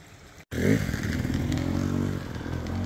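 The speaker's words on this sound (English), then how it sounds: "They do trail maintenance on motorcycles and just cut down what's in their way." A trail maintenance motorcycle on a backcountry trail starts up abruptly after a brief cut, then a steady close engine drone rumbles on with a little rattle.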